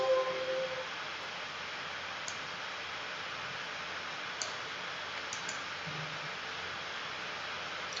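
A computer mouse gives a few sharp, quiet clicks, spaced irregularly over faint background hiss with no voices.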